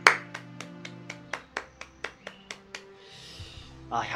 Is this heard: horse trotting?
no